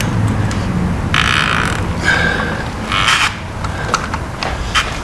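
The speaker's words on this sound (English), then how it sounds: "we'll go ahead and take off the filter" A wrench scrapes and creaks against the oil filter of a 2014 Yamaha FJR1300 motorcycle in several short rasping bursts, close up and fairly quiet.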